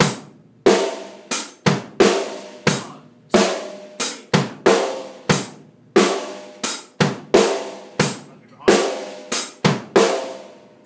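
Drum beat played as a steady pattern of sharp hits with a rest on beat three and a hit on the and of three, loud and close, repeating evenly with no talking.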